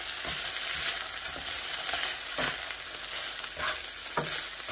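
Lean beef mince with under 5% fat sizzles steadily in a hot pan for a quick chili, with a spoon scraping and stirring through it every second or so, close and fairly loud with no talking.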